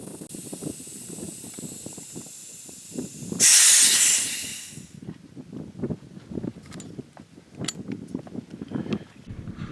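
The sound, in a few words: air hissing while filling Gauntlet SL PCP air rifle to 4,500 psi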